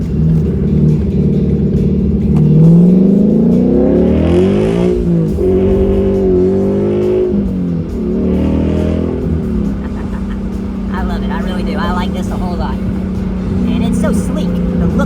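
A 2017 Ford Mustang GT 5.0L V8 revs and accelerates through rising gear pulls from first, loud and close, with a person talking over it in the latter part.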